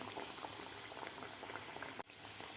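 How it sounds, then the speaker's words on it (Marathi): Matar kachori deep-frying in oil makes a quiet, dense bubbling crackle that runs steadily, with a momentary dip in the bubbling just after the two-second mark. "आता आपण याला पलटी करून घेऊया कचोरी आपली थोडीशी फ्राय होऊन वर आलेली आहे"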